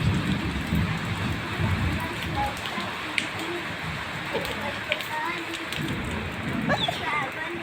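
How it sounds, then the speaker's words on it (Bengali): Heavy rain falls outdoors as a dense, continuous hiss with low rumbling, while people talk over it nearby. "দেখেছো কি বৃষ্টি, মেঘ দেখেছো বন্ধুরা"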